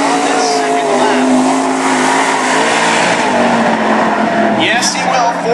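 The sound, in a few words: race car engine on qualifying lap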